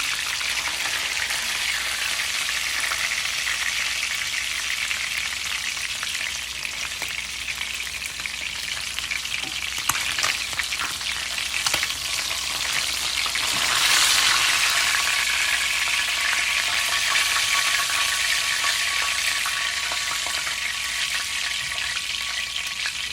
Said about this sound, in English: think we're pretty much done frying these now.